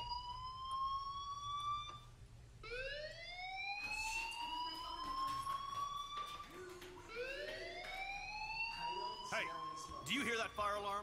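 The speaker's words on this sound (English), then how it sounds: "Do you hear that fire alarm?" Fire alarm in the Life is Strange video game: a loud, continuous electronic siren with repeated rising and falling sweeps, ringing steadily and close throughout.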